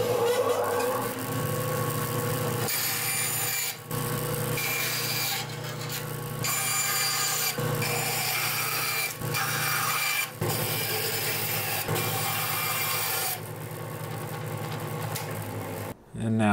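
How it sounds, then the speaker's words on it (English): Woodturning cleanup of the ends of a wooden piece, with steady tool-on-wood rubbing and scraping that runs nearly continuously for about sixteen seconds, broken by a few short pauses, fairly loud and close. "let's go clean up the ends of this wood here"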